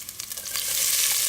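Chopped onion dropped onto garlic frying in a pot of hot oil for a Mexican cheese soup, producing a close sizzle that quickly swells into a loud, steady hiss.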